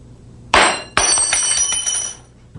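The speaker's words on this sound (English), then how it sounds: "When a thermometer breaks," A glass thermometer shatters on a lab bench in two sharp bursts, an initial crack followed by a sustained tinkling clatter of glass fragments, close and loud with no talking.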